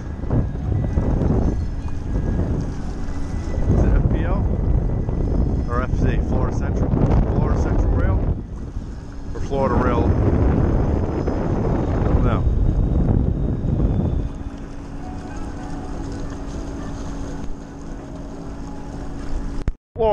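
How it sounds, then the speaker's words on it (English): A sailboat running under engine on the Amelia River, Florida, with no wind all day, its steady low motor drone beneath wind buffeting the microphone and stretches of talk. "No wind all day, so we just been motoring."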